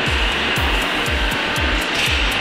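Compressed air hisses steadily and loudly out of a Patriot Gen II system, with a faint rhythmic pulsing underneath, close by and with no speech.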